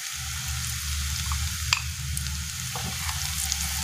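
Turmeric and spices sizzle and fry in hot oil for a winter carrot-radish pickle, a steady close crackling hiss with a few sharper pops, with no talking.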